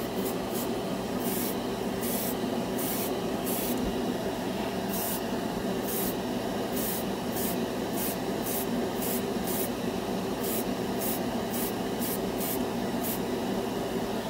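An airbrush spraying Vallejo Mecha Color pure black paint gives a continuous close hiss, with a faint rhythmic ticking pattern repeating throughout and no talk.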